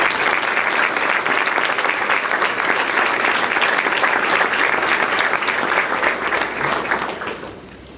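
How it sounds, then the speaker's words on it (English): Sustained applause from a large audience at a white coat ceremony, dense and steady throughout before tapering off near the end, with no talking over it. "therefore, to give Dr. Dorian Shillingford your special round of applause and welcome to your white coat ceremony."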